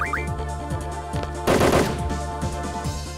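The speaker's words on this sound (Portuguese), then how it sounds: "Toma tiro. Muitos tiros." Rapid gunfire attack in Final Fantasy VIII Remastered, a burst of repeated shots with a dense noisy blast midway over steady game music, loud and close.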